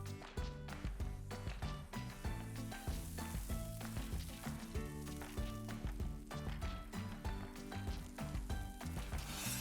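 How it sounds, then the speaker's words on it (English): Rice and butter frying on a hot griddle, a steady bright sizzle with clattering spatula scrapes, heard close under loud rhythmic background music throughout. "We're going to stick the rice on this side of the griddle."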